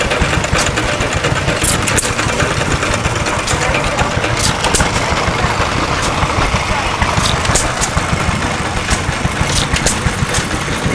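A hit and miss engine runs continuously with a steady chugging rhythm, filling the clip with broad mechanical noise and sharp clicks.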